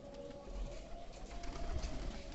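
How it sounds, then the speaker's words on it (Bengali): Pigeons in a loft coo softly in low, throaty bursts, faint and fairly distant, over a quiet background hum. "এবার একটা নামতেছে, দেখেন আস্তে আস্তে নামতেছে, সব কবুতরই নামতেছে"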